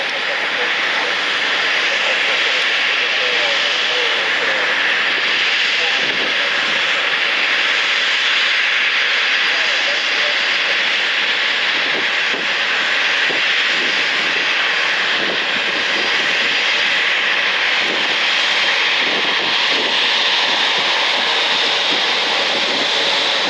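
A JetBlue Embraer E190 jet taxis toward the gate at Cleveland Hopkins airport at night, a loud continuous turbine whine and hiss holding steady throughout.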